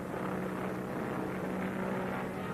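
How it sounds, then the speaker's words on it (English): A steady droning engine hum fills the air, like a propeller plane passing overhead, constant and fairly loud with no pauses. "Look! That plane up there!"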